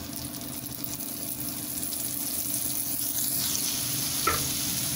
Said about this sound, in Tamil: இப்போ கேஸ் பற்ற வச்சு தோசைக்கல் வச்சுருக்கிறேன். நான் கொஞ்சமாக பட்டர் போடுறேன்.